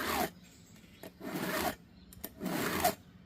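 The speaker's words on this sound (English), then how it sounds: "And that's all I got to do to sharpen a chainsaw blade." A hand file rasps across a chainsaw blade tooth in three slow, separate strokes with short pauses between them, close up and fairly quiet.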